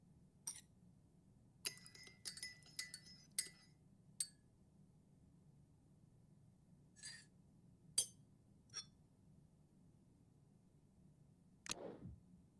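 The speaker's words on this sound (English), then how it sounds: "Now let's give it a stir." In a video game, a spoon stirs a drink in a glass, making a scattered series of light, bright clinks and taps over a quiet hum.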